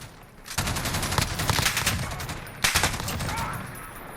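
A MG5A2 machine gun in Call of Duty Modern Warfare fires from the prone position in two long sustained bursts, loud and close, with a short break between them.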